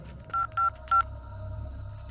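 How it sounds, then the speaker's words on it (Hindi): A telephone being dialed: three short, distinct keypad tones in quick succession over a faint background hum, fairly quiet and isolated with no voices. "राजा, मनोहर को फोन लगा जल्दी।"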